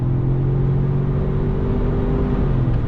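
A 2021 Ford Bronco Sport First Edition with a 250-horsepower engine pulls under throttle, a steady loud mid-pitched drone and hum from inside the cabin, continuous with no talking.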